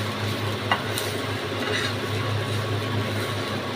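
Bottle gourd peel being stirred and mixed as it fries in a pan, a steady soft sizzle under scraping spatula strokes with a brief sharper clink near the start.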